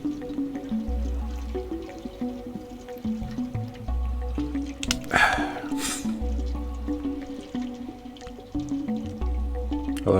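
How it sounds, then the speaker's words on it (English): Water drips through a pipe in the video game Stray, soft repeated drips and small liquid splats over a low ambient game hum. "I like how it's dripping"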